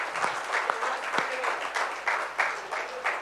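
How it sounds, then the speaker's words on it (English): Applause rises from the audience at a bravery awards ceremony in a grand hotel hall in Chennai, a brisk, uneven clapping with scattered louder claps, carrying on steadily for a few seconds. "Big round of applause for Neeraj bhai."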